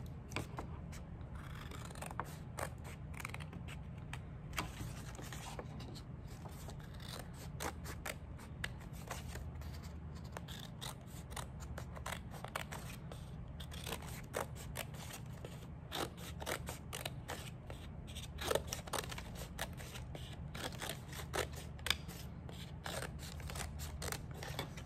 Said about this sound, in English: We're gonna start cutting. You're gonna cut right to that mark so you're not cutting all the way through.